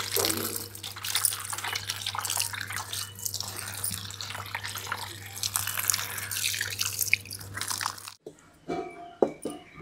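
Bananas rubbed and washed by hand under running tap water in a kitchen, a steady close splash and trickle that stops abruptly near the end, followed by a few faint handling knocks.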